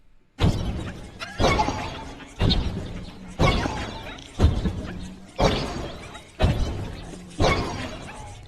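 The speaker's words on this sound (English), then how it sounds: "And another version with animal sounds." Rhythmic music built from sharp, crashing animal-like sound bursts, repeating roughly every second in a steady beat.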